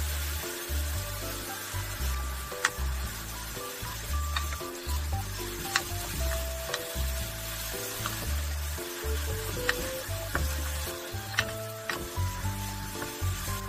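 Enoki mushrooms stir-fry in a pan with oyster sauce and soy sauce, giving a steady sizzle and occasional stirring ticks beneath background music.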